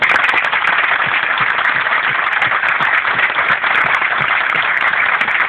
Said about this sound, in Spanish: creo que merece un fuerte aplauso de parte de nosotros